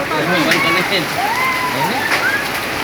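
Hail patters steadily on surfaces and a car roof during a hailstorm in SBD, NTT, a dense continuous rattle close by, with several people talking over it throughout.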